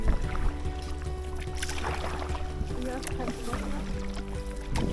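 A canoe is paddled along a river in the Norwegian–Swedish wilderness, with soft water swishes and splashes over steady flowing-water noise and low rumble, close and continuous.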